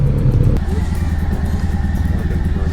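Motorcycle engines idle and rumble nearby at a campsite with a rhythmic low putter, a sharp clack early on, then steady engine chugging.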